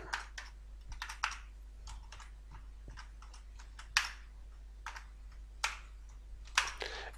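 Keys clatter on a computer keyboard while JavaScript code is typed, a series of quick clicks in short bursts with brief pauses, close and fairly quiet, with no talking.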